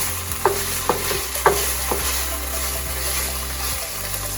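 Coconut curry ingredients are stirred in a pot with a few scraping clicks of the spoon near the start, over a steady low hum and a faint sizzle.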